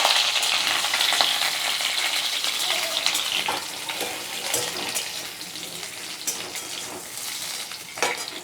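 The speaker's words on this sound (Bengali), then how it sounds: "আলুটা ভাজতে থাকুক" Potatoes fry in hot mustard oil with a loud, close, continuous bubbling sizzle, plus occasional stirring knocks; no one talks.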